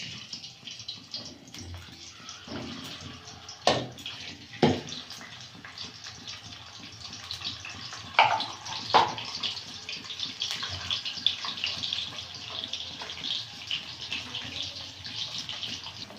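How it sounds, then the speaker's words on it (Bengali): Eggs frying in hot oil in a kadai in a village kitchen, a steady faint sizzle and hiss with occasional sharper pops and spatters rising above it. "তেল দিয়ে দিয়েছি, ডিমগুলো ভেজে নেব।"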